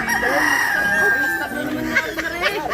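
A rooster crows in a drawn-out call near a home while people talk in Filipino over it, with hens clucking and farmyard background noise around them.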